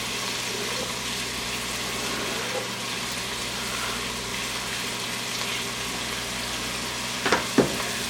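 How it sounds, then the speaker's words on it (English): Butter, carrots, celery and onions sizzle steadily in a pot for homemade tomato soup, a dense, constant frying hiss heard up close, with a couple of brief clinks near the end and no talking. "I added about a half a stick of butter. Now what I'm going to do is add our mirepoix, our carrots, celery, and onions into here."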